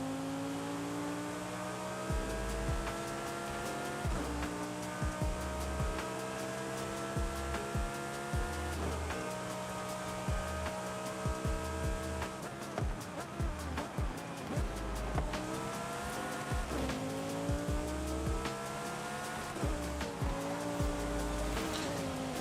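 Porsche racing in Forza Horizon 5, its engine revving hard through repeated upshifts with rising pitch sweeps and brief drops between gears, loud and continuous over roughly twenty seconds with no talking.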